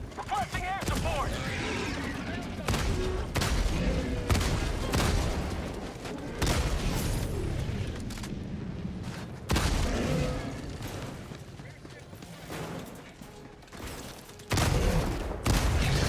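Artillery barrage in the video game Helldivers 2, played on the hardest Helldive difficulty against bots: repeated booming blasts and gunfire bursts, loud and close, with a voice talking over the din.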